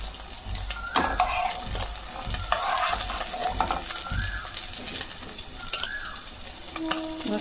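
Eggs fry in oil in a kadai until browned, giving a continuous close sizzle with occasional stirring scrapes and clinks.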